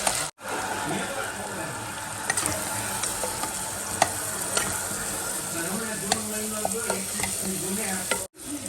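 Onion, potato, tomato and carrot sizzle steadily in hot oil with mustard seeds, cumin, curry leaves, cinnamon and cloves in a kadai while a spoon or spatula scrapes and stirs now and then, close up.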